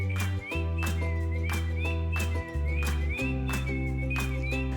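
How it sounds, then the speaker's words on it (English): A bulbul's fluty whistle rings out from the trees as a storybook sound effect, repeating short melodic phrases again and again over a steady, sustained musical backing with no talking. "Keely and Keelan heard a fluty whistle in the trees below"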